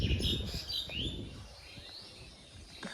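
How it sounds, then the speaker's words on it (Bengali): Small birds chirp and tweet around a village on a quiet morning, thin high calls repeating at a moderate distance over soft outdoor background noise, with no talking. "সো গ্রামের সকালটা গাইস অনেক সুন্দর হয় চারিদিকে পাখিরা কিচিরমিচির করছে"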